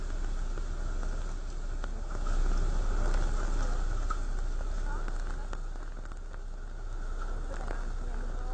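Heavy rain pours steadily during a storm with strong winds that brought down large trees, a dense continuous wash of patter with no clear breaks, at a fairly even loudness throughout.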